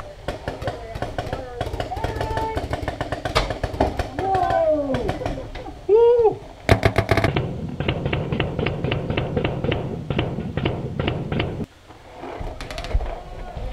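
Paintball markers fire in a woodland paintball game, dense rapid popping bursts, especially a steady volley in the second half, close and loud with shouting and outdoor voices mixed in.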